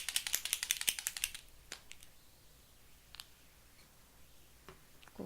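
A deco paint marker is shaken hard, its mixing ball rattling in a fast, regular burst of close clicks for about a second, then a few scattered light taps follow in a quiet room.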